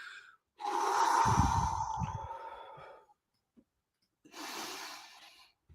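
Deep breaths drawn with a tight core: a long, forceful breath lasting a couple of seconds, a pause, then a second shorter breath, close and clear with no talking.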